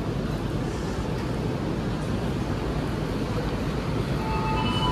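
Madiun Jaya economy train running between Jakarta and Madiun: a steady, dense rumble and roar of the moving train heard from inside, with a constant wash of noise throughout and no talking.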